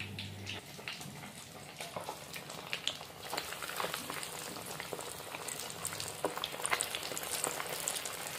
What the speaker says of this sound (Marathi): मस्त असा मासा तळून झालाय.